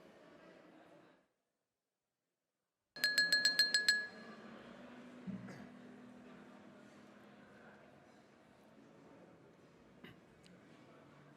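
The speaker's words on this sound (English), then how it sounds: "That really works, that tapping of the glass" Someone taps a glass at an awards event to call the room to attention, about eight quick bright clinks in a burst, loud and near, over murmuring room noise and distant chatter.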